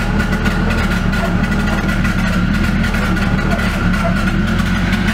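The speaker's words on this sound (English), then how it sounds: "It's a little rough, but" A Nissan 240SX S14 engine idles roughly on its own just after starting, a steady, loud, close low rumble with an uneven pulse and no talk over it.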